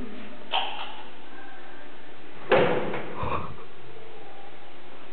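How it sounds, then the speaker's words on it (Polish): A door swings open or shut in a dim indoor space, giving a short burst of clatter and a heavier thud a couple of seconds later, with faint rustling before and after and no talk. "Jakieś drzwi."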